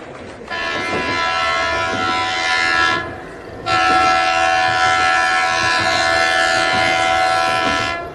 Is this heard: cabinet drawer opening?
no